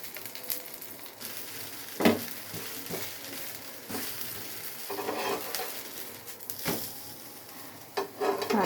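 Dosa batter frying on a hot pan with a little oil added, giving a steady close sizzle broken by scattered scraping clicks and a few sharper clatters, with no voices.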